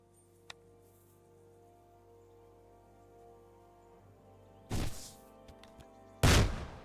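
An early handgun contraption fired in Kingdom Come Deliverance 2: after a near-silent stretch with a faint click, two loud booming discharges land about a second and a half apart, the second one heavier.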